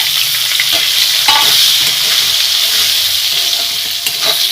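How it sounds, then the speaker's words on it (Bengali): Onions fry in oil in a pan for a katla fish curry, giving a loud, steady close-up sizzle with occasional stirring clinks and scrapes. "পেঁয়াজটা ভাজবো আর এখনই আমি স্বাদ অনুযায়ী লবণ দিয়ে দিলাম"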